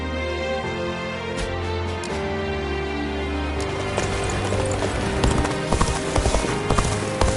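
Horse hooves clip-clop in a steady rhythm, becoming louder and more distinct toward the end, with a faint background of music.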